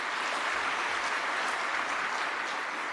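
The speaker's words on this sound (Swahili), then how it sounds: "na naomba tuweze kujipigia makofi" An audience at a formal government dividend presentation applauding, a loud, sustained wash of clapping throughout that stays even from start to finish.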